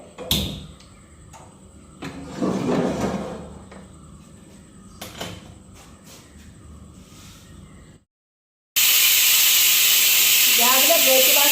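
A pressure cooker cooking sambar blasts a loud, sustained steam hiss after some kitchen clatter and a brief silence, with a whistling rise near the end.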